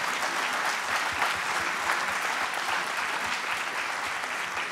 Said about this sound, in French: On peut vous applaudir tous les trois